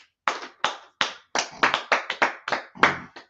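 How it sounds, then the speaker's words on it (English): A group claps in a short, uneven burst of about a dozen sharp, close handclaps over a few seconds, with no talking. "Let's clap it up for everybody."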